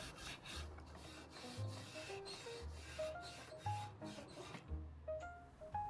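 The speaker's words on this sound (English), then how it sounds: "Using steel wool, and you can already see the grain showing through." Steel wool rubbing back and forth across the wood of a 1920s French curule style antique bench, a soft rhythmic rasping in close, quiet strokes with brief pauses between passes.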